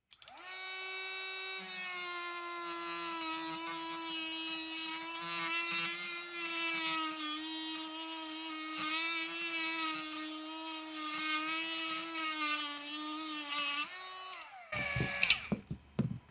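Dremel Lite rotary tool fitted with a coarse sanding drum, run at high speed while digging a hole: a loud, steady high-pitched whine lasting about fourteen seconds, then it spins down and stops with a few clunks.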